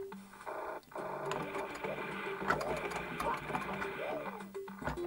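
Rapid machine-gun fire from the Rolling Thunder arcade game rattles in quick repeated bursts, mixed with game music and effects, while someone talks over it.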